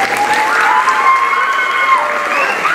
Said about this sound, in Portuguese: eu peço uma grande salva de palmas.